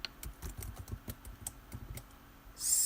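Fast typing on a computer keyboard gives a close, rapid run of sharp clicks for about two seconds, then a brief louder burst of noise at the end.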